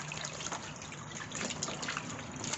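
Water sloshing and trickling as wild mushrooms are rinsed by hand in salted water in a basin, a busy continuous splashy wash with small bursts, close up and with no talk.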